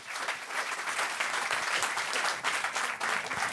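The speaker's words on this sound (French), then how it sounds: "On va déjà vous applaudir." A lecture audience applauds the speakers at a talk on children's brains, with steady, dense clapping throughout at a fairly even level and no voices standing out.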